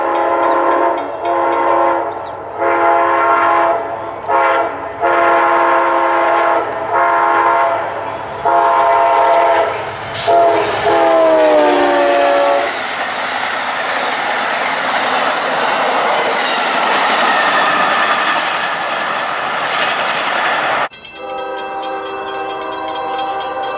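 An Amtrak Silver Star passenger train sounds repeated loud horn blasts as it nears, then rumbles and rattles past close by with steady wheel and car noise, ending with an abrupt shift.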